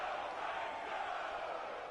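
Crowd cheering in a football video game, a faint continuous roar of many voices building during a big third-down play.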